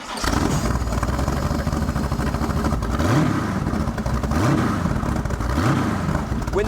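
A Boss Hoss V8 motorcycle engine starts and rumbles loudly up close, its deep idle rising in several throaty revs.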